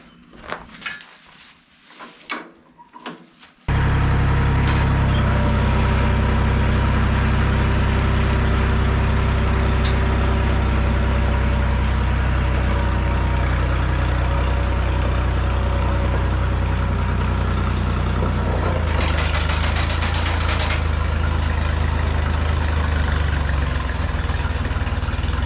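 Antique tractor engine, found in a barn and serviced for a parade, catches after a few seconds of quiet handling noises and settles into a steady, loud, low idle that runs on continuously, with a brief higher rattle near the end.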